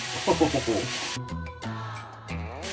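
Butternut squash curry frying in a pan, a soft sizzle and stirring heard up close, with a person talking over the cooking for most of the moment.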